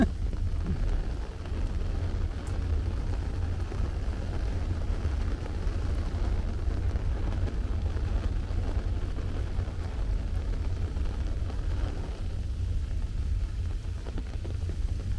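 Rain falling steadily during a city walk through Astoria, Queens, a continuous wash of patter over a deep, rolling rumble of thunder, with no one talking.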